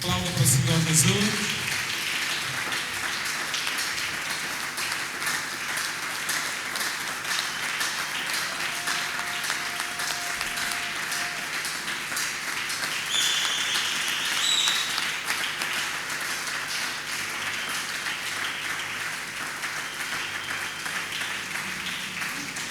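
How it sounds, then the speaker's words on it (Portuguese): A church congregation applauds in praise at a worship service, with continuous dense clapping lasting over twenty seconds, a few voices and a faint tone audible beneath the steady roar. "Aplauda para o Senhor Jesus."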